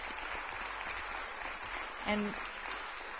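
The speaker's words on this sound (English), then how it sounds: "Let's go ahead and give our admissions experts a round of applause." Audience at an admissions case studies program applauding, a steady wash of clapping throughout with a brief spoken word over it.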